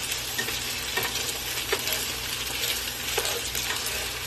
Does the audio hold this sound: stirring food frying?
yes